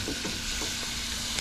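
Cut potatoes for French fries drop into hot oil at about 325°F for a first fry, giving a steady, close, continuous sizzle and bubbling with faint stirring, no voices.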